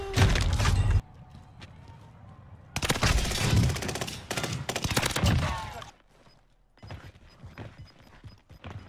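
Bursts of rapid gunfire crackle in two loud volleys in Call of Duty: Warzone, separated by quieter gaps with scattered distant shots and sniper fire.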